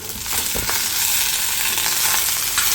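Chopped tomatoes go into browned onions frying in a pan, making a steady, close hiss and sizzle with a few soft stirring scrapes and no talk.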